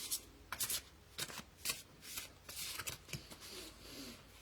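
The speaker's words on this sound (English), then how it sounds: "I'm going to do a good shuffle." Large oracle cards from a Light Fragments Auracle deck being shuffled by hand, with a quick run of papery riffles and slaps in bursts, close and moderately loud, no talking.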